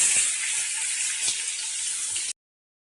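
Sliced onion frying in hot oil for mutton biryani, a steady, bright, continuous sizzle with faint clinks of stirring, close and even, ending abruptly.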